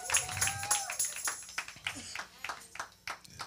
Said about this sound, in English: You may clap your hands and take your seat.